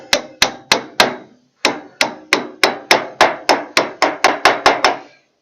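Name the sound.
hammering bearing cap onto trailer stub axle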